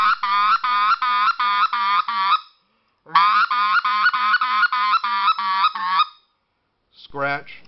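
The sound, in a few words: game call imitating scratch into cluck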